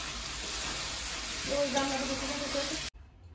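Meat curry frying and being stirred with spices in a pan, a steady close sizzle with a faint voice in the background, cutting off abruptly near the end.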